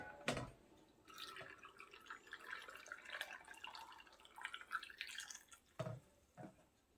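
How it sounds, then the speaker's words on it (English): Hot water trickles and drips into a canning jar of carrots in a home kitchen, a soft, quiet filling sound with a few sharper knocks. "I'm putting hot water in it to an inch headspace."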